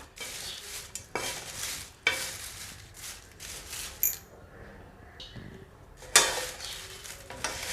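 Whole garam masala spices, including bay leaves, dry roasting in a pan on a low flame, heard as repeated scraping stir strokes and rustles with short pauses and one louder clatter, no talking.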